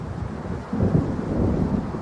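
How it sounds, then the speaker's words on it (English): Low, rumbling thunder from a storm rolls in the Alan Wake video game, a dull swelling boom over steady broadband noise that sounds like wind or rain, with no voices. "It seems there's a storm coming."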